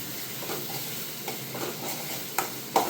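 Eggplant and dried fish sizzle in a pan for a dried-fish curry, a close, steady hiss broken by stirring scrapes and a couple of sharp utensil clacks toward the end.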